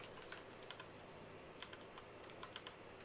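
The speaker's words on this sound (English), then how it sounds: "we're going to do a hit enter, backspace, dot, robot text" Typing on a computer keyboard while writing CSS code, heard as faint, irregular clicks of keystrokes spread across the whole span, fairly quiet and with no speech.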